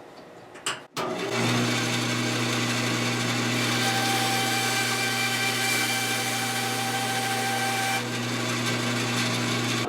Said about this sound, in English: We'll work it down flush with some emery cloth before we put that compensated nut in.